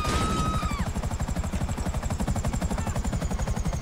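Loud, steady rotor chop from a helicopter in Grand Theft Auto V, with a fast even rhythm throughout and a brief rising whine at the very start.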